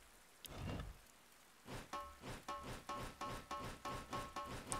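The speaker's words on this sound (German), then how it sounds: "Oh, Regen." Rain in the video game Dead in Vinland falls as a soft pattering hiss, followed by a run of evenly spaced, rhythmic splashing thumps that repeat steadily, fairly faint and with no talking over it.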